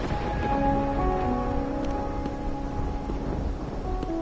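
Steady rain pours in the game Wuthering Waves with low rumbling thunder underneath, dense and continuous throughout, with faint tonal music lines in the background.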